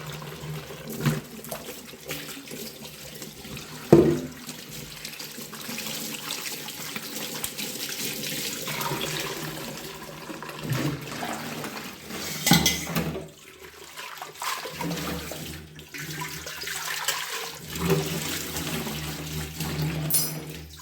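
A cloth used to squeeze coconut milk is rinsed in cold running water from a tap, giving a continuous splashing flow with occasional louder sloshes and splashes as the fabric is handled nearby.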